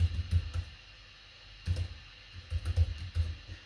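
Close, quiet keystrokes on a computer keyboard come in two short bursts of rapid tapping with a brief pause between them.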